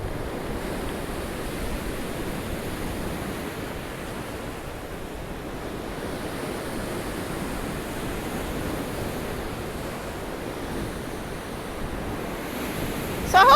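Sea waves wash in at Blackpool seafront at high tide, a continuous broad surf roar with wind noise, steady and fairly loud throughout.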